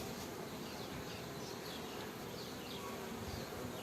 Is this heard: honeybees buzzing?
yes